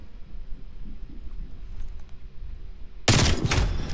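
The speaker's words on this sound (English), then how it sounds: "I let off one more shot for good measure" Gunfire in Call of Duty: Black Ops Cold War during a tournament match. A few seconds of low, quiet game ambience give way to a sudden loud burst of shooting that rattles on to the end.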